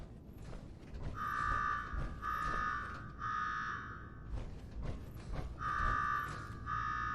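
A repeating electronic alarm in Fallout 4's Nuka-World blares in loud, evenly spaced pulses over a dense rumbling mechanical background, with no talk over it.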